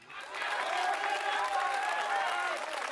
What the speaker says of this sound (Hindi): जितनी तालियां आपकी इस बात पर बजी